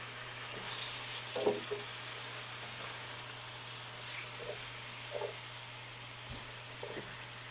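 Thin sliced pork chops fry in a pan with a quiet, steady sizzle, broken by a few faint clinks and scrapes as the meat is moved around.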